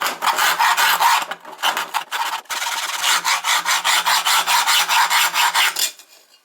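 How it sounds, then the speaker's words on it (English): Hacksaw cutting through a plastic lawn mower wheel spacer, close rhythmic rasping strokes in quick succession, with a brief pause before the sawing resumes and then stops. "switch the hacksaw to cut sideways"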